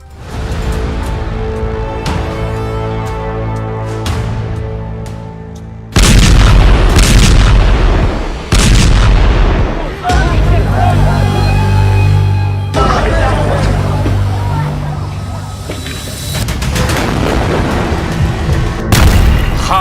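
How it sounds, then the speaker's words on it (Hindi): Shells exploding in Gaza, heavy booming blasts and rumbling detonations in a loud, dense, continuous barrage with sudden surges of impact and sustained roaring noise. "गाजा में गिरते गोलों के बीच"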